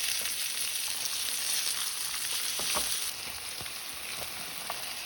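Beans and mixed vegetables stir-fry with sesame seeds, golden ginger and garlic, giving a constant bright, hissing sizzle with a few soft stirring knocks, fairly quiet and close.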